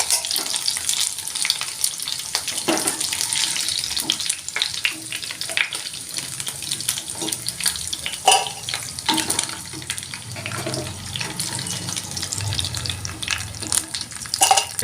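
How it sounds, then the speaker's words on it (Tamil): Chicken pieces deep frying in oil for street-style chicken fried rice give a steady bubbling sizzle with scattered pops and crackles, fairly close and continuing without speech. "5 to 6 minutes டீப் ஃப்ரை பண்ணால் போதும்."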